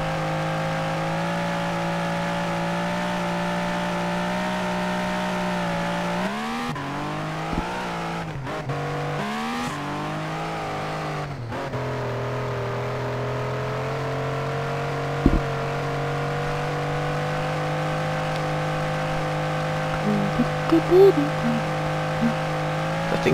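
A car races along in the video game Life of German with a steady, droning engine that shifts pitch briefly as it drives. Someone talks over the engine the whole time.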